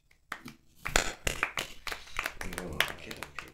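A small live-comedy crowd claps for a comedian, with scattered, uneven claps that thicken after a quiet start, faint and mixed with murmuring voices.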